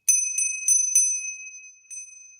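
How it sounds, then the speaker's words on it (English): A small bright bell struck four times in quick succession, ringing out with a long shimmering decay, then one softer strike after a pause. "The bell clears out the negative energy."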